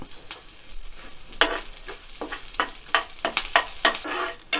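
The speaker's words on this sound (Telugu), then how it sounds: "ఇందులో కరివేపాకును కూడా వేసి వేయించుకోవాలి" Curry leaves, cumin and mustard seeds frying as a tempering in a pan for peanut chutney: sharp crackling sizzle bursts and stirring scrapes come in quick irregular clusters, close and fairly loud, with no voices.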